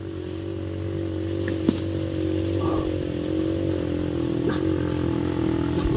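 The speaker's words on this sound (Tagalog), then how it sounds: "Lampas ang motor" A motorcycle engine drones steadily past for the whole stretch, moderately loud and close, with a faint click and scrape mixed in and no talking.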